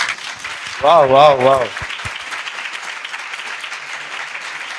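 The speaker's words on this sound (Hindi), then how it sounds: "आइए हम अंकल के लिए ताली बजाएंगे।" A church congregation applauds a visiting uncle with steady, fairly loud clapping throughout, while a voice calls out in approval over it near the start.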